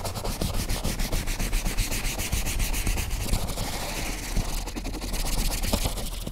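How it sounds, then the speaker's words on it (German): Brush scrubbing perforated leather during cleaning, a steady close rasping rub with rhythmic back-and-forth strokes running throughout, no talking. "wenn wir einmal mit der Bürste drüber gereinigt haben"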